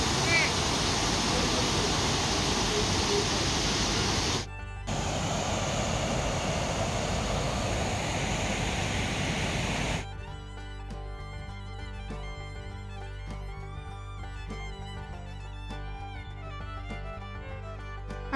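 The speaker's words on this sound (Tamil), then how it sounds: "இந்த மாதிரி குட்டி ஃபால்ஸ், அதாவது குட்டி குட்டியாக கட்டாய் அப்படியே தண்ணி ஊற்றுற மாதிரி இருந்துச்சு" Pykara Falls pours with a loud, broad rushing roar for about ten seconds, briefly dipping once, then fades under music for the rest of the stretch.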